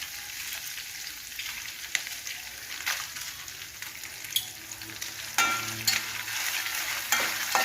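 Dried red chillies fry in hot oil in a pan for a Nalleru chutney, giving a steady close crackling sizzle with scattered sharp pops and a brief stir of the pan toward the end.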